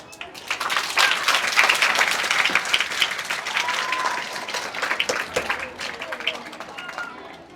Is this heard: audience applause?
yes